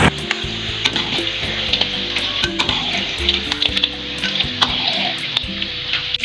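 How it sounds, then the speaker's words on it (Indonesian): Cut tempe pieces frying and being stirred in hot oil: a loud, steady sizzle with constant bubbling crackle, and scattered sharp pops and scrapes running throughout, with no voices. "sudah panas, maka masukkan tempe yang sudah dipotong-potong tadi. Lalu diaduk hingga kecoklatan"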